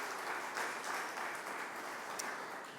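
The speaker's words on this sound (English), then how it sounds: "enjoy the applause and congratulations" Audience applause at a youth entrepreneurship challenge event, a steady broadband clapping wash held at moderate, somewhat distant level throughout with no voices on top.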